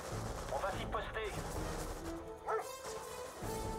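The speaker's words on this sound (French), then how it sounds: "Les chiens." Several dog barks come in short bursts amid game noise and gunfire effects in Command & Conquer: Red Alert 3, with French voices speaking in between.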